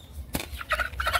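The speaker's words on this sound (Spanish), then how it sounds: "¿De quién es la gallina?" A hen held in someone's hands gives a few short, close clucking calls against a quiet background, with no one speaking.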